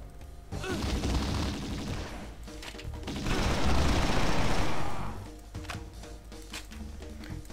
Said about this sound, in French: J'ai utilisé le fusil d'assaut